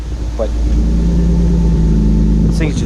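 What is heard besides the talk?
car engine idling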